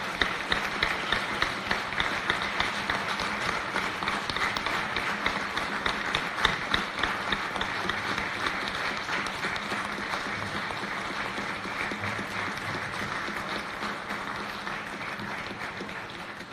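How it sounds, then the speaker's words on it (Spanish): Sustained strong applause fills the National Assembly chamber, a dense, even clatter of many hands clapping that carries on without letup. "Para ellas yo pido un fuerte aplauso"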